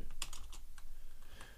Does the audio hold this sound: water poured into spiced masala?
no